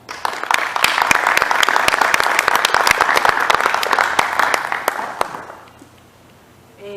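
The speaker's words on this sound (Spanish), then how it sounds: "para quien solicito un fuerte aplauso" Audience applause at a poetry book presentation, a dense burst of many hands clapping loudly for about five seconds before fading quickly to near silence.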